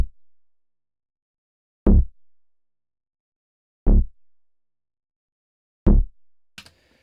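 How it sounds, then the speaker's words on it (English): Mariana, a bass-driven synthesizer in Logic Pro, plays three deep plucked bass notes about two seconds apart, each with a sharp attack and quick decay, alone, followed by a brief soft rattle. "I'm going to be using Mariana, which is a very cool sounding bass-driven synthesizer."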